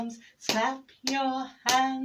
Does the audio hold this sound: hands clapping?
yes